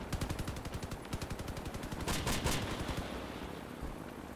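Rapid automatic gunfire from other players rattles through a helicopter battle in a building game, a fast regular stream of shots running for several seconds with a brief louder cluster partway through, alongside a steady engine-like drone.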